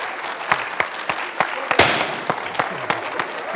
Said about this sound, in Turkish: Kocaman alkışlar Hakan'a.